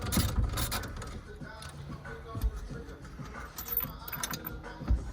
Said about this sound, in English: let's finish cracking that rest of the bolt off